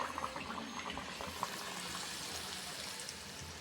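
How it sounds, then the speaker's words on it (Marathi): Small rice-flour anarase fry in hot oil with a faint, dense bubbling hiss that runs steadily throughout, with no voices over it. "तेलसुद्धा तापलेलं आहे आता हे छोटे छोटे अनारसे यामध्ये सोडायचे आहे"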